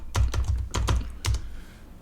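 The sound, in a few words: typing a command on a computer keyboard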